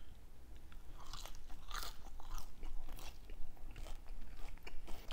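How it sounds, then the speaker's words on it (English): McDonald's french fries being bitten and chewed close up, a run of crisp crunches and wet mastication sounds with no talking. "I'm gonna start off with the fries,"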